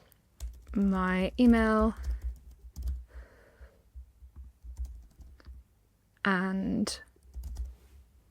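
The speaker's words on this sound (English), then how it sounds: "I'm going to type in my name" Computer keyboard typing as a name and email are entered into a web form, short bursts of key clicks between stretches of speech, close and moderately loud.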